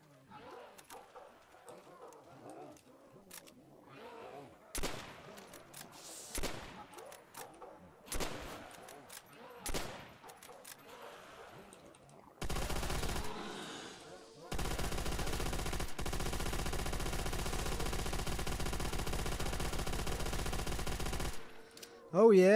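Sniper rifle shots in Call of Duty custom zombies ring out as single sharp, loud cracks spaced a few seconds apart, followed later by longer bursts of sustained gunfire and game noise.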